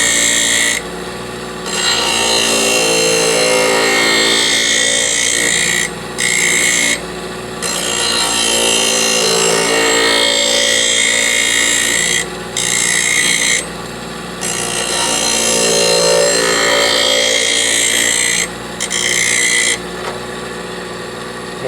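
A pair of scissors is sharpened on a grinding wheel machine with loud, continuous abrasive rasping. The sound breaks off briefly several times as the blade is lifted, then resumes, and no one speaks.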